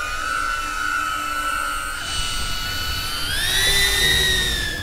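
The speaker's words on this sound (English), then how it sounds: "This drone is very loud and intimidating when you hear it." A loud police drone hovers close by with a steady high-pitched whine that rises in pitch partway through as it speeds up, over a constant roar of rotor noise.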